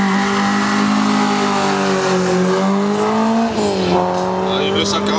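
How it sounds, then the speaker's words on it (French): Opel Manta rally car accelerating up a historic hill climb course, its engine note loud and close, rising in pitch with a brief dip as it shifts, under continuous announcer commentary. "Arrive le 148, une Opel Manta Hirschman."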